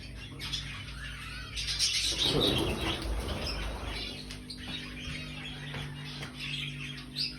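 Pet birds in newly set-up PVC cages flap their wings in a loud burst near the middle, with chirps and squawks scattered throughout over a steady background hum.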